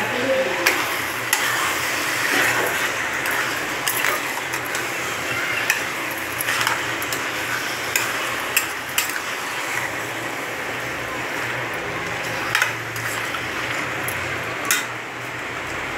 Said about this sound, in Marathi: त्याच्यानंतर टोमॅटो टाकायचं आणि हे चांगलं परतून घ्यायचं